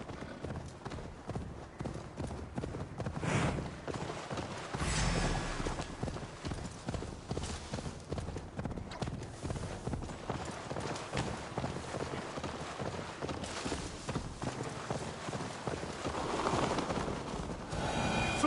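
A horse galloping in Assassin's Creed Valhalla, with rhythmic, fast hoofbeats thudding steadily at close range, occasional snorts and movement noise mixed in, and faint voices underneath at times.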